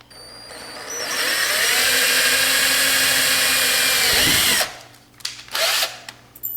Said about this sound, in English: 1/8 inch drill bit,